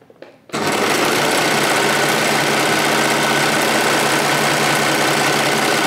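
A sewing machine, set for a rolled hem, stitches knit fabric. After a brief quiet start it bursts into a loud, continuous, fast mechanical whir that holds steady right up close.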